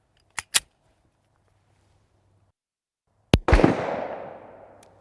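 Shots of Liberty 10mm ammunition from a full-size pistol at a trade show range: two quick faint cracks, a pause, then a loud close blast that echoes and decays over about a second.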